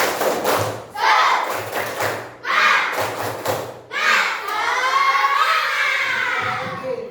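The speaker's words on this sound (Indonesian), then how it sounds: "Tepuk semangat." Fifth-grade pupils in an Indonesian elementary school classroom perform a rhythmic spirit clap, with bursts of patterned claps and thumps between loud group chanting and shouting of children's voices.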